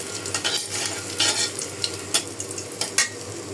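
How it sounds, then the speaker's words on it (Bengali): Chilies with turmeric fry in hot oil in a kadai, making a close, soft sizzle. Scraping stir strokes and short bursts of crackle break through it at uneven intervals. "আমি শুধু হলুদ মরিচ দিয়েই ভাজি। একদম কালো করবো না, মরিচগুলো মশমশা করব।"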